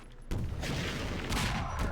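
A grenade goes off in a 2v2 first-person shooter tournament match, a loud broadband blast that hits suddenly and rumbles on for over a second amid continuous game noise and another burst near the end.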